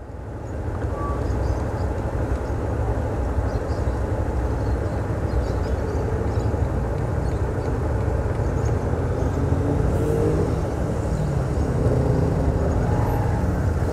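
A dense flow of cars in heavy traffic in Natal, Rio Grande do Norte, makes a continuous low rumble and tire hiss from a vehicle in the stream, with passing engines swelling briefly near the end.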